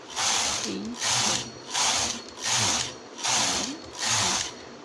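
A knitting machine carriage is pushed back and forth across the ribber while knitting rows for a button band, making six steady rattling, clacking passes in an even rhythm, close and loud.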